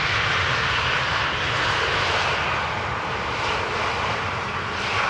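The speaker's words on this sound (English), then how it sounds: "EasyJet A320 Neo arriving from Birmingham." An EasyJet Airbus A320neo arriving at Amsterdam Schiphol from Birmingham, a loud, continuous broadband jet engine roar that swells slightly as it passes, with no voices.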